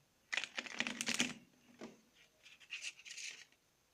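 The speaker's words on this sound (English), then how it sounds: "give a sort of a riffle shuffle" Riffle shuffle of a deck of playing cards, a quick close fluttering rattle lasting about a second, then a softer second burst of card riffling and handling.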